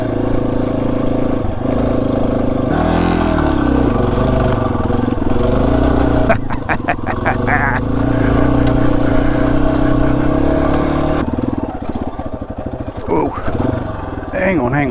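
Yamaha XT250 dual-sport motorcycle ridden hard off road, its single-cylinder engine droning steadily and revving in surges, close and loud throughout with no talking.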